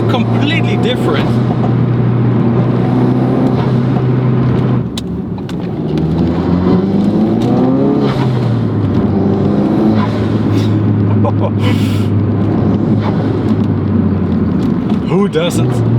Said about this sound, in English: Who doesn't love turbo sounds like that?